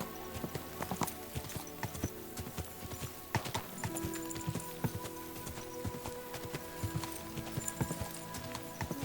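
Horse hooves clip-clopping at a steady walking rhythm in Kingdom Come Deliverance 2, fairly quiet and close, with soft ambient game sounds beneath and no talk.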